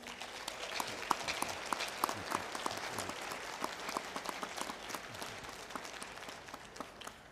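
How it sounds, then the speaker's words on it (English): A crowd gives a sustained round of applause at a university Founders' Day celebration, many hands clapping steadily at a moderate distance, fairly quiet and unbroken. "Can we give President Eddington another round of applause?"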